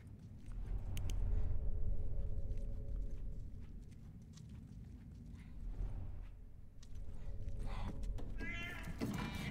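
Cat meowing in the video game Left Behind, a faint cry toward the end over a steady low rumble and ambient noise.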